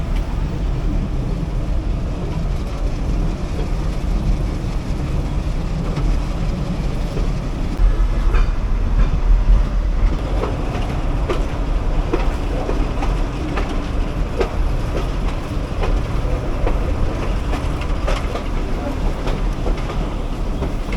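A Bhakra-Nangal railway train running on its tracks, a continuous loud rumble with rhythmic clicks and clatter of the wheels, heard from on board throughout with no talk.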